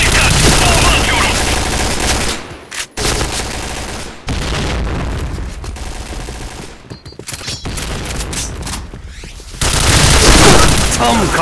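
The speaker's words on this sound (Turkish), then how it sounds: "Dikkat, bomba atıyorum." A grenade explosion in the Point Blank shooter game, heard amid loud, dense gunfire and booming blasts that fill the whole stretch with short gaps between bursts.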